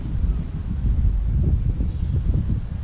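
Wind gusting across an allotment plot and buffeting the microphone, a loud, low rumbling roar that swells and dips unevenly for the whole stretch, with no talking.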